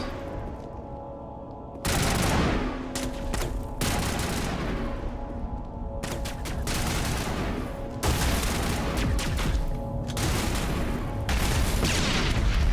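Rifle and grenade fire in Mass Effect Legendary Edition comes as dense, loud bursts of shooting and booming explosions that start abruptly and keep going, with brief cuts between volleys.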